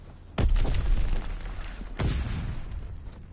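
A grenade explodes in Call of Duty WWII, a loud booming blast with a rumbling tail. A second heavy blast follows about a second and a half later. No voices come through.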